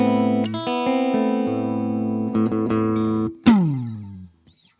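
Clean electric guitar tones from a Jazzmaster played on the middle pickup, sustained chords and single notes ringing out with reverb, several changes, then a final strummed chord decaying alone.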